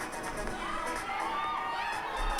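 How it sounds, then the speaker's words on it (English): A crowd cheers and whistles at a bodybuilding pre-judging in a 40-and-over category, a fairly faint, continuous wash of voices heard from a distance. "There's a lot of cheering."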